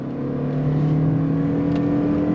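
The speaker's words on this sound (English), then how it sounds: "you are going to get that loud inline 4 drone" Steady, loud droning hum from the 2.5-liter inline-four engine of a 2025 Toyota Crown Signia midsize SUV under throttle, revs held constant from inside the cabin.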